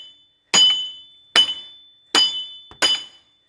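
A hammer strikes the wheel hub of a 2002 Buick LeSabre four times, each a sharp, ringing metallic clang with a short decay, evenly spaced and close.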